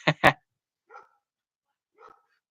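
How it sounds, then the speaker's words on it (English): Dogs bark in the background: two sharp close barks, then two fainter, more distant yips spaced about a second apart, heard with no talk over them. "Sorry about the dogs in the background"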